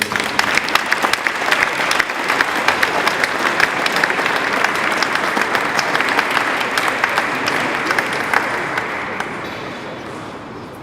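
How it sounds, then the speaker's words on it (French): Audience at a French awards ceremony applauds steadily and loudly for about ten seconds, a dense wash of many hands that fades slightly at the end. "vous pouvez l'applaudir parce qu'elle le mérite"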